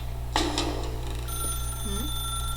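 A telephone rings in the video game The Stanley Parable: a few sharp tones come first, then a steady, bright electronic trill that holds clearly with no voices.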